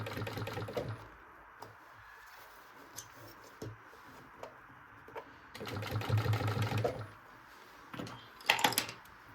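A sewing machine stitches the edges of a drawstring backpack in short, rhythmic bursts, with a longer steady run near the middle and a sharp clatter toward the end, close and moderately loud over quiet room noise.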